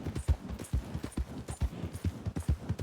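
A horse's hooves clip-clop in a steady rhythmic trot in Red Dead Redemption 2, clear and fairly close, with no talk over it.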